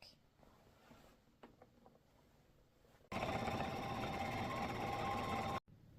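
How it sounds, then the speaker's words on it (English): An electric sewing machine stitches through apron fabric, a loud, steady whirring drone that starts abruptly after quiet handling sounds and runs for about two and a half seconds before stopping. "we're going to sew in between these lines, so that way it creates a pocket"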